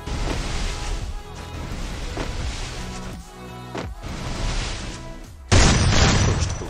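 Gunshots and explosive booms in the Free Fire video game, a dense loud stream of blasts and game effects with a brief drop before a sudden louder burst near the end.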